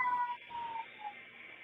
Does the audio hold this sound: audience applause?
no